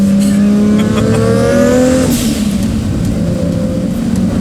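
A 750 hp Toyota Supra with a big-turbo 3-litre 2JZ engine revs hard on a mountain run, loud and close, rising pitch through a gear before shifting, with turbo whoosh and a steady roar, no talking.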